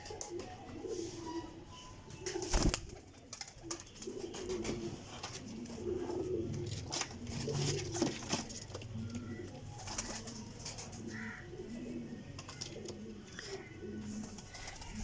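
Several pigeons coo in soft, repeated low phrases, close by and fairly quiet, with occasional clatters and rustles around them and a bit of talk in the background.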